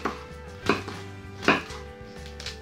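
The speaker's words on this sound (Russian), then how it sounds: "Листья капусты нарезаю." Knife chopping cabbage leaves on a board while preparing a tuna and quail egg salad, with two sharp, distinct cuts about a second apart over a low steady background hum.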